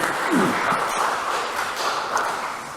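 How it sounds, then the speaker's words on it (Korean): A congregation at a Korean church service in Phnom Penh claps together, a dense spread of hand claps with a few louder taps, filling the room without speech. "하나님 영광의 박수 올려드리겠습니다"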